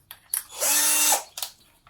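A power drill fitted with a brad point bit bores into wood, whining loudly for about half a second between short bursts of handling noise before and after.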